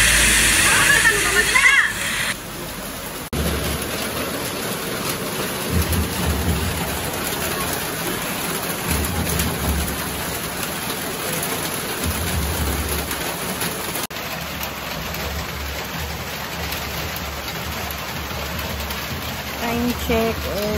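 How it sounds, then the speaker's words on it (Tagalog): Steady rain falling, a continuous dense hiss with splashy water texture running for the whole stretch, fairly loud and close, with a brief louder burst at the start. "Then, nag-uulan siya, guys. Umuulan siya."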